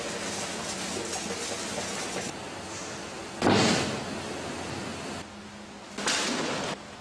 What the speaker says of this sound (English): This is the sound of concrete being moved by high-pressure pumps.